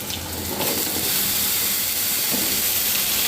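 Capsicum pieces tipped into a pan of curry seasoned with turmeric, setting off a loud, steady hiss of sizzling that swells after a brief stir and carries on close by.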